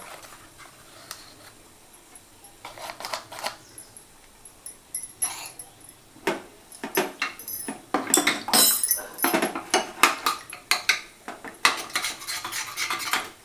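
A spoon mixes custard powder into cold milk in a bowl, giving irregular metallic clinks and scrapes that grow busier and louder toward the end, with no talking.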